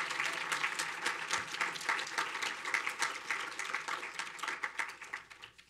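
Audience applause at a university postdoctoral scholars and mentors awards ceremony, dense, steady clapping from a crowd filling the room, fading slightly toward the end.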